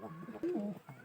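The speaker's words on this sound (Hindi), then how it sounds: "मखैरी कबूतरी, देखो भी गुटर कर रही है" A single pigeon gives a soft, close, throaty coo, a short rolling call rising and falling over faint background noise.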